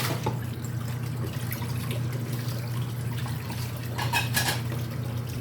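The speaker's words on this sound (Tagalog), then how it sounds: "Maghugas muna ang aking mga ginamit para hindi tambak" Dishes and pots clink and clatter at a sink as water runs steadily underneath, with a few louder scrapes near the end.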